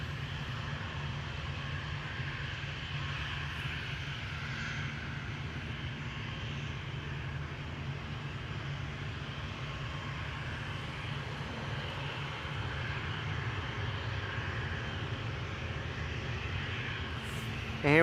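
An airliner departing from runway 24 at Amsterdam Schiphol, a steady distant engine roar holding at an even level the whole time, with no voices heard.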